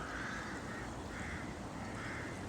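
Ducks gather at a duck park during feeding, with a dense, continuous chatter of quacks and honks over steady background noise.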